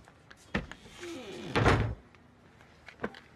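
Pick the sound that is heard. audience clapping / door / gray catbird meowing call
door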